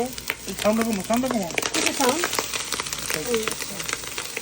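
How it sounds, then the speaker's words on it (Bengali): Leftover biryani being turned into khichuri in a home kitchen: a steady frying sizzle with occasional stirring runs throughout, partly under overlapping voices talking. "আমাদের বাসায় এখন জাগর খিচুড়ি রান্না করা হচ্ছে"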